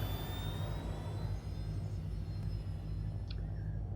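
An airplane takes off in a video game: a steady, loud low jet-engine rumble and whir that holds evenly throughout, with no talk.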